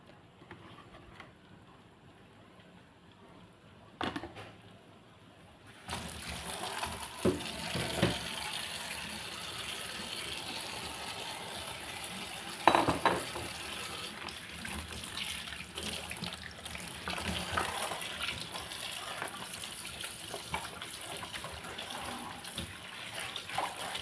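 A pot of water for rad na heats toward a boil: quiet at first, then a sustained rushing, bubbling hiss rises and holds steady for the rest of the time.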